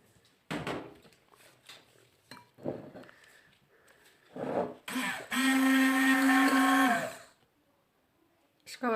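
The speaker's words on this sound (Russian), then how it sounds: "Затем опять же пробиваем через блендер." Kitchen blender whirring through a chocolate mousse mixture of melted chocolate and gelatin, one loud steady burst of about two seconds after scattered clatter, thuds and brief talk.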